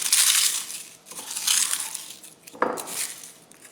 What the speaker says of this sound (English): What I'm going to do here is I'm hand crushing the curry leaves.